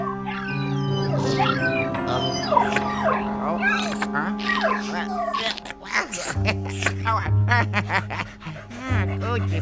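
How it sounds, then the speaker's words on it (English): A ghostly puppy whimpers in the Nintendo Switch game Luigi's Mansion 3, with high, wavering whines rising and falling over sustained game music and chimes throughout. "Uh-oh, puppy."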